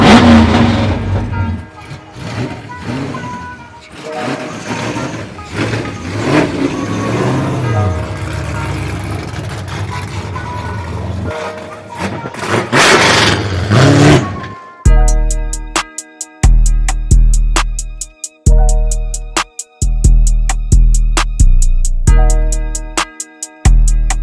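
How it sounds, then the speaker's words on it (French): Tommy's drift car roars at wide open throttle, loud and close, first a sustained rough engine blare with mixed noise, then a series of sharp rhythmic revs and bangs cutting in and out. "Le char de Tommy en arrière wide open, vraiment trop bruyant."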